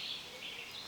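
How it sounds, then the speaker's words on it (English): Faint, steady chorus of birds singing outdoors on a mid-July morning at a lakeside cottage, sparrows and vireos among them, a soft continuous high twittering with no talk over it. "I hope you can hear all those birds that are singing"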